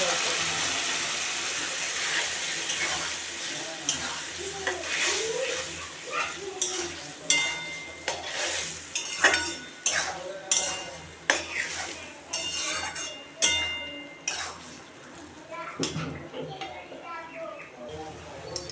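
Okra chorchori cooked with poppy seeds gets a little water in a pan, with a sizzle and a series of distinct scraping, clinking spoon strokes against the pan, fairly close.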